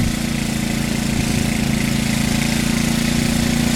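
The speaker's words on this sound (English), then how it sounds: "that is a ginormous John Deere snowblower" A large John Deere snowblower engine runs steadily in a snowstorm, a constant close mechanical drone with a throbbing low hum and no pauses.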